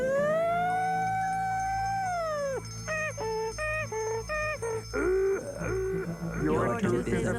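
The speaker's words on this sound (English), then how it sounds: "Suddenly, a siren went off." An electronic siren wails with a long sustained tone, then breaks into rapid repeating alarm beeps and warbling blasts, loud and close.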